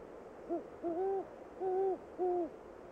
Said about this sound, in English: Among the creatures that prey upon them are other birds, such as this great horned owl.